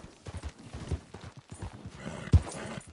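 Horse hooves clip-clop in the Red Dead Redemption 2 game, an uneven run of close, soft thuds at a walking pace with one sharper, louder strike near the end.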